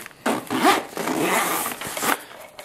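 The heavy-duty zipper on a Condor EMT pouch IFAK being pulled open, a close, rasping zip in a few quick strokes with short pauses between them.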